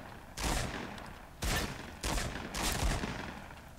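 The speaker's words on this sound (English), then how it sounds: "there's freaking hooligans having their gunfights outside my house!" Bursts of gunfire from a Fortnite battle royale gunfight, several sharp volleys rattling in quick clusters with short gaps between them, moderately distant.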